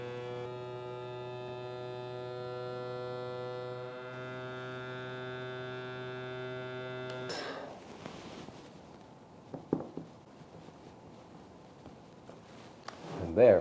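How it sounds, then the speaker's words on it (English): A vacuum sealer pump hums steadily for about seven seconds while drawing air from a jar, then cuts off, followed by close rustling, handling noises and a few clicks. "You can actually hear the machine removing all of the air."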